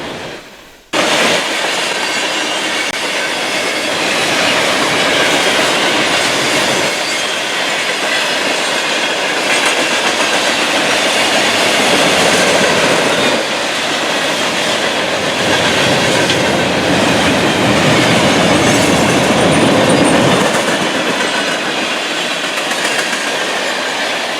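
Ringling Brothers and Barnum and Bailey circus train on its final run, hauled by an NS GE C40-9W and a 1978 EMD SD40-2, roars past loud and close with sustained wheel rumble, clickety-clack and squeal.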